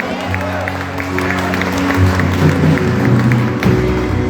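A church congregation claps and cheers over sustained keyboard-like musical tones, a busy, moderately loud burst of applause that runs continuously throughout.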